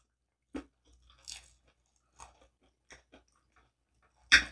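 Close, crisp bites into thin crust DiGiorno pizza, a handful of separate crunches spaced by quiet gaps, ending with one loud sharp crunch.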